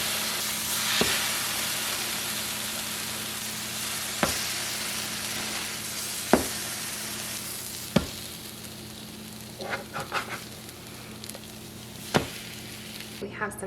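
Egg-drenched bread for pumpkin French toast sizzling in a frying pan, a steady close hiss with occasional sharp clicks and pops of the pan and utensil.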